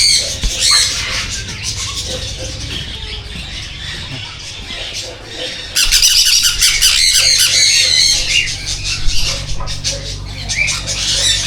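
Loud, harsh parrot squawks repeat continuously, several birds calling over one another, growing denser and louder partway through.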